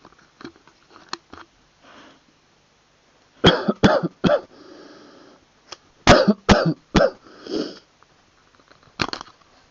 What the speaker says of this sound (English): I'm a smoker, I've got a smoker's cough